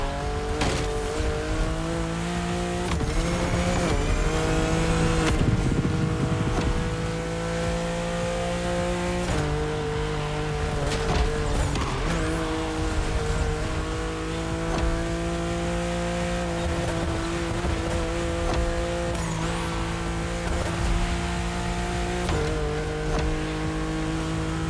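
A BMW M4 in The Crew Motorfest, engine revving hard and loud throughout with repeated gear shifts and tire squeal, sustained and close, with no talking.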